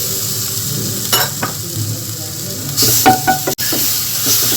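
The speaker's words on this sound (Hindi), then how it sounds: "अदरक अच्छे से भून गया है।" Asafoetida and grated ginger fry in hot oil in a pan, a steady loud sizzle with a few stirring scrapes and a sharp clack of a spoon against the pan partway through.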